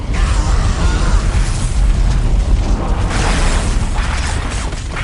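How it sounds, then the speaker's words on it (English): A Titan cannon fires in the video game Warhammer 40K Dawn of War Dark Crusade, a loud, sustained roaring blast with rumbling, crackling texture and mechanical clatter throughout, dense and close. "On my command, fire the Titan cannon."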